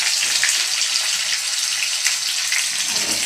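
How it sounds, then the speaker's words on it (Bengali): Food frying in a pan until browned red, a steady, loud, close hiss and sizzle running unbroken throughout. "লাল লাল করে ভেজে নিই।"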